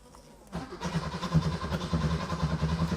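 An old Porsche engine, sitting five years in a garage, cranks over on the starter with a steady, uneven churning rhythm close by, starting about half a second in and running without catching.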